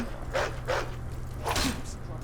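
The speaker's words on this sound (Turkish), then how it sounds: "Kurtmuş ya. Köpek değil." A wolf growls and snarls in a dark vampire cave in the video game Skyrim, with a few short, rough bursts of moderate loudness over a low background hum.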